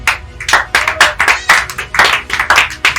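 Church congregation clapping in unison to acclaim the Lord, a loud, steady rhythmic beat of hand claps about two per second, close and without talk.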